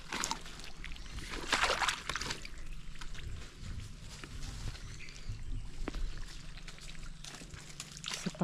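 Water is scooped and poured in a muddy river, with splashing and trickling sounds, close by and fairly quiet, in irregular bursts.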